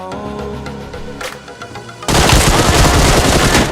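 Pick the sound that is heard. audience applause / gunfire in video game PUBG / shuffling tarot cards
gunfire in video game PUBG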